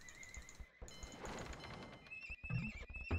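Horses neigh and whinny in an Age of Empires II match, heard alongside game sound effects and thuds in a short, fairly faint burst with no talk.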